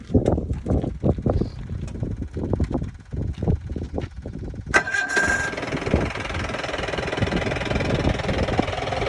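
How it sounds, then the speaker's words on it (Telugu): Cranking from a camper vehicle engine, heard as a rapid series of knocking turns, then it catches and settles into a steady, loud mid-pitched idle that carries on to the end. "సార్ బండి స్టార్ట్ చేయి బాబు."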